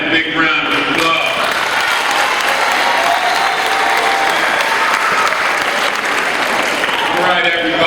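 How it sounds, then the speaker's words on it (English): A crowd at an 8th-grade graduation commencement gives sustained applause, loud and dense throughout, with a speaker's voice rising over the clapping at the start and again at the end. "Let's give this young man a big round of applause."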